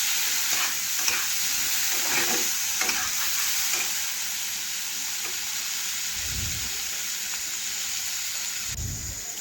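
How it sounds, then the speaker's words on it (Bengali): Sliced potatoes with salt stir-fried in a pan for a vegetarian dish cooked without masala: a steady, close sizzle with spoon scraping and stirring, plus a couple of dull low knocks near the end. "এখন নাড়াচাড়া করে ভালোভাবে মিশিয়ে একটু আমি ভেজে নিচ্ছি।"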